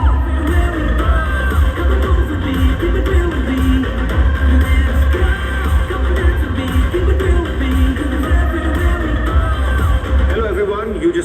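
A dense, loud crowd fills a Sahasam trailer launch with whoops and cheering, mingled with clapping and voices, over a steady bed of music.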